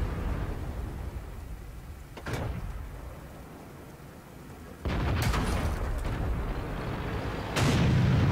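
Tank cannon shots in World of Tanks, with a Centurion 1 tank as the target: three loud, sharp booms with rumbling tails over a steady low engine drone, near and spaced a few seconds apart.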